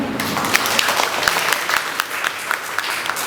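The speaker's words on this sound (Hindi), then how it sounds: "तालियां बनती हैं।" An audience at a professional networking training session bursts into brief, lively applause, a dense wash of clapping from a roomful of people lasting a few seconds.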